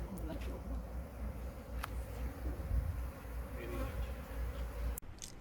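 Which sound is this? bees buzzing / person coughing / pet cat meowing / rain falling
bees buzzing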